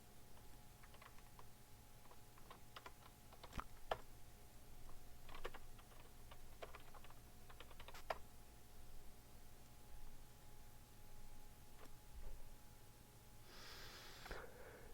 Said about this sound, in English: It helps if I type the path correctly.